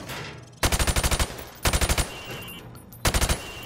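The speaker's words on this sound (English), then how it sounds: "I want you to shoot the targets through the wood." Automatic weapon fire in Modern Warfare Remastered, shooting targets through plywood: three loud, close bursts of about six to eight rapid shots each, separated by short pauses.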